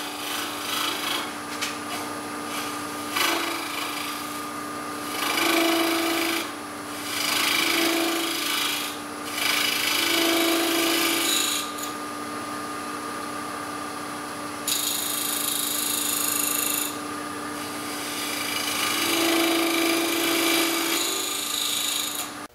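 A turning tool cuts into a spinning burl wood box on a lathe, making a continuous whirring rasp with repeated louder scraping passes as the tool sweeps across the wood.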